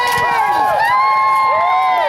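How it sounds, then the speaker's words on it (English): A crowd cheers and whoops for knights at a jousting tournament, loud, close voices with rising and falling shouts packed together, excited and sustained across the moment. "Let's cheer them on, ladies and gentlemen!"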